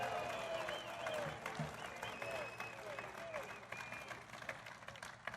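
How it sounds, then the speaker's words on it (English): A large outdoor political rally crowd in Old Forge, Pennsylvania cheering and chanting the name Lou: a dense, continuous roar of voices and clapping with tonal shouts rising through it, steady and fairly loud. "they're shouting, Lou. They're not booing."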